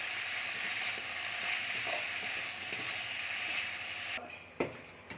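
Sambar stirred in a pot on a Karnataka-style home kitchen stove, a steady close bubbling sizzle with soft scraping strokes and a few clinks near the end.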